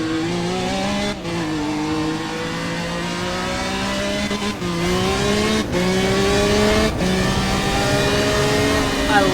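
VQ engine race car in the game Need for Speed ProStreet, revving hard through several rising gear sweeps with sharp shift breaks, loud and close for the whole stretch.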